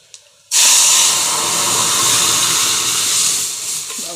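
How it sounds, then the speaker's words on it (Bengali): Dal tempered with cumin and dried chili bursts into a loud, sudden sizzle that hisses continuously for several seconds, close by and fading slightly toward the end. "এই ডালটা ছুঁকে দিই, জিরে শুকনো লঙ্কা দিয়ে দিয়েছি"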